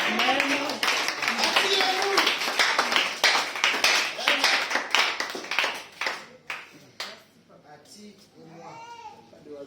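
A church congregation breaks into dense applause that thins into scattered claps, with babbling voices, a child's cries and a speaking voice rising as the clapping fades.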